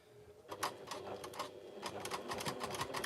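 Sewing machine running a short seam finished with a back stitch, quick bursts of rapid stitching pulses, fairly quiet and close.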